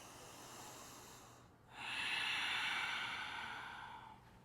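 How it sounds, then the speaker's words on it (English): Long, slow, audible yoga breaths, a soft breathy exhale that swells after a brief pause and holds steady for a couple of seconds before fading, close and alone. "deep breaths."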